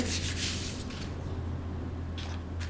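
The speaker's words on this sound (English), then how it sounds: "and burnish those strips of tape." Soft, steady rubbing as a tool burnishes strips of tape onto a folded paper card, a close, quiet continuous scrape with a few louder strokes at the start and end.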